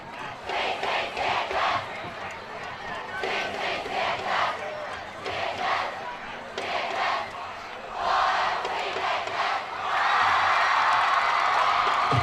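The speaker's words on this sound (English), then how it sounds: "There you see that fired up Centennial crowd." Fired-up home crowd at a Centennial high school football game against Franklin cheers and yells loudly after a touchdown, the roar swelling in waves and growing stronger toward the end.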